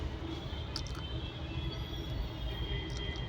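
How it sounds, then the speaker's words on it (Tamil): A Palakkad–Erode passenger train at Walayar station on the Tamil Nadu–Kerala border in the rain, heard as a steady, continuous low rumble and hiss with no clear breaks. "இதாங்க பாலக்காட்டு ஈரோடு செல்லும் பேசஞ்சர் ரயில் ஆகும்"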